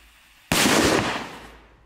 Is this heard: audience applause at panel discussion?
no